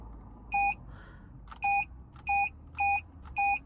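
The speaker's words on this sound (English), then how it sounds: "It's now going to give you 3 beeps to confirm." A Ghost 2 immobiliser in a 2022 Toyota Yaris Cross gives a string of steady electronic beeps, with five bright tones spread evenly across the moment and soft clicks between them against a quiet cabin hum.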